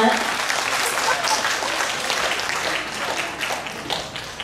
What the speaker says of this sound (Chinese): 给他们以热烈的掌声